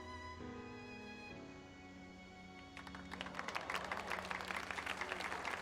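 Crowd applause from a Final Fantasy XIV cutscene rises after a sustained musical chord, dense clapping swelling in the second half under the fading music.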